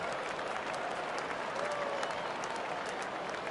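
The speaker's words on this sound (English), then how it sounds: "Crowd gets up for the 3-2." A stadium crowd in the MLB The Show 19 baseball video game roars and applauds steadily through a 3-2 count, a dense, sustained wash of cheering with no voices standing out.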